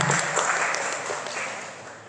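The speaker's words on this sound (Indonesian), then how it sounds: "Tepuk tangan sekali lagi buat beliau." An audience at an Indonesian talk on women, youth and family claps steadily, a dense, fairly loud wash of applause that holds for about two seconds and fades slightly.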